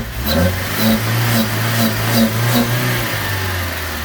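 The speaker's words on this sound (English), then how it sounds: "give it a rev." A Suzuki Swift engine is blipped repeatedly: five or six quick, loud revs rise and fall over a steady idle, then it settles back to a rough, even idle. No one speaks over it.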